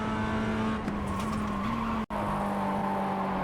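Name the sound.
Mazda MX5 braking and downshifting in iRacing video game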